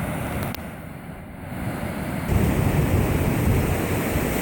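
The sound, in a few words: water spilling over a concrete dam weir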